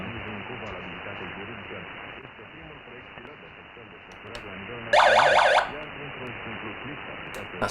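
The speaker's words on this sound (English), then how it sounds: "That's the alarm." A short electronic alarm warbles loudly for about half a second, indoors among portable radios tuned to the long-wave band, rising above a steady hiss of radio static and interference.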